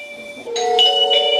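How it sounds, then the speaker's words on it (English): A wireless video doorbell's receiver sounds its chime, a clear electronic ding-dong melody of a few bright tones played loud and close with no talk over it. "Once if someone press your doorbell, you can get indication on receiver as well as on your mobile."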